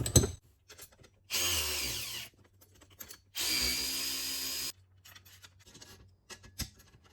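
Two bursts of a power drill tightening the brackets of amp power running boards on a 1967-1972 GMC truck, each whirring for about a second, with light clanks and handling noise between them.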